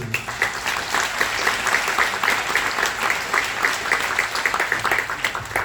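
An audience at a Forum des Images event in Paris applauds, a dense, steady wash of many hands clapping that fills the room for several seconds.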